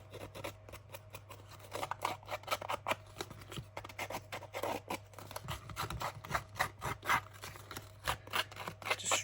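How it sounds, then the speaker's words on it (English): A sander is worked over a Halloween craft piece in quick, irregular, scratchy rubbing strokes, close and moderately loud, with no voices. "Then I'm just going to take the sander and just rummage over it."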